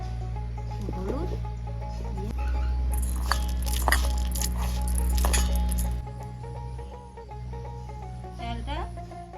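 Rice being hand-mixed with turmeric and salt in a village kitchen gives soft grainy squishing and light clinks against the bowl, over a steady low background hum.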